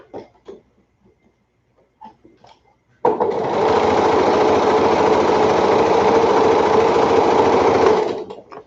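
A Janome sewing machine chain-pieces quilt fabric, starting abruptly after a few soft handling noises and then running fast, loud and steady for about five seconds before stopping.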